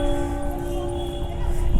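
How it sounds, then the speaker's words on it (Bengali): A clock tower bell built of pink Mirzapur stone strikes noon, its sustained ringing tones humming steadily over low outdoor rumble. "ভাগ্যক্রমে ঘন্টা ঘরে ঘন্টাও বাজছে,"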